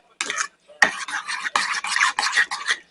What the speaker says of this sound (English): Mix it all together real good.